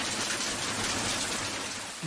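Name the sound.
rain imitated by clapping hands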